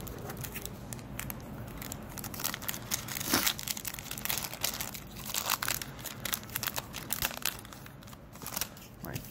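A Yu-Gi-Oh card pack wrapper crinkles and crackles close up in a library, in a run of irregular crisp bursts that is fairly quiet overall.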